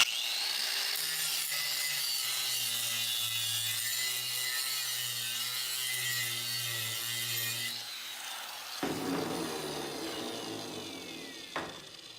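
An angle grinder runs a stone against a heavily waxed tool, making a sustained whining grind for about eight seconds, then rougher, close scraping bursts as the contact changes.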